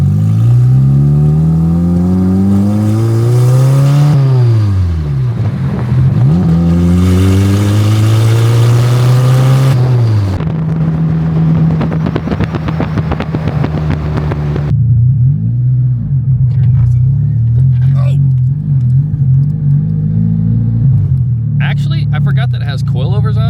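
A very loud K24-swapped Toyota MR2 engine revs up and falls back repeatedly, its exhaust note sweeping up and down between shifts before settling into a steady, close drone.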